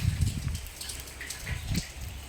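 Rain falls on a wet morning, heard as a soft steady patter with scattered drips and splashes close by, without voices.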